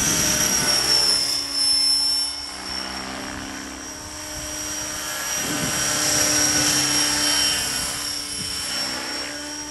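A T-Rex 600 ESP radio-controlled helicopter flying a circuit outdoors, its steady high rotor and motor whine loud and continuous, swelling and fading slightly as it passes, with no talking.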